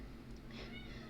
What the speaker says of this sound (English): So if you hear a cat meowing, it's because I closed him out of my room